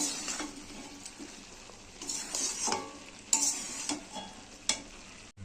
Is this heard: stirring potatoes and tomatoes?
yes